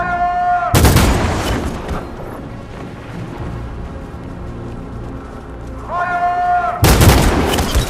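Soldiers in Detroit: Become Human fire a loud volley of rifle shots twice, a sharp burst near the start and another near the end, with a low rumbling crowd ambience in between and brief raised voices.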